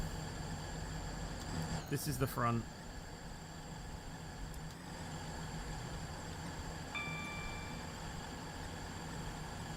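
The interior of a Class 180 train in the Roblox game Stepford County Railway carries a steady, droning hum, with a brief louder clatter early on while a person talks over it.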